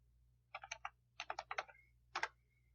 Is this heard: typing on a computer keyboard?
yes